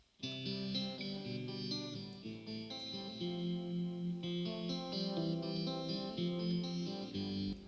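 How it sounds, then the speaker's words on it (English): An electric guitar recorded without an amp plays a rhythm part through reverb, sustained chords ringing steadily and clearly for the whole stretch with no talking. "Here's the next guitar track that I'm calling Electric Guitar Rhythm."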